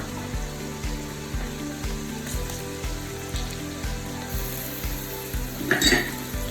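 Steady sizzling and crackling of onions frying in a hot pan, with a brief clatter of stirring near the end.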